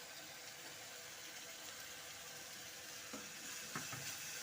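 Ginger and green chili paste frying in a pan, a steady broadband sizzle running throughout, with a couple of brief stirring scrapes near the end.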